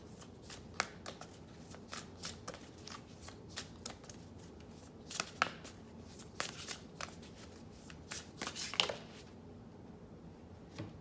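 Oracle cards shuffled by hand in a quiet room, a steady run of soft papery riffles and flutters with sharper snaps every second or so, close and fairly faint, no talking.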